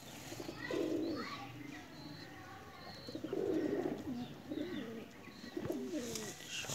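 A Neel Dumma pigeon coos softly in several low, rolling phrases, fairly close, with faint chirps from other birds in the background on an evening rooftop.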